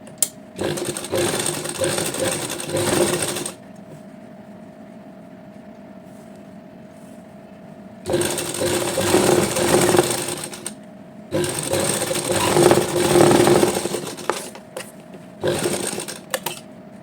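A sewing machine stitches a Patiala salwar in long runs of fast, steady mechanical clatter, loud and close, stopping for a few seconds between runs and then resuming in shorter bursts.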